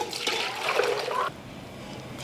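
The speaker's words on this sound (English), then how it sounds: "I'm gonna pour it through a fine strainer." Beef broth for spicy Vietnamese beef noodle soup pours through a fine strainer, a soft, close liquid splash and trickle lasting about a second before easing to a quiet dribble.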